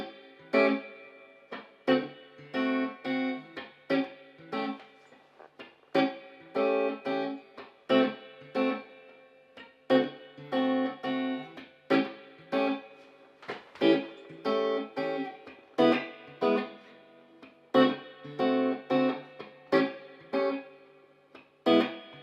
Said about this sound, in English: now I'm gonna play a 12-bar blues progression here in 4 different positions using all these voicings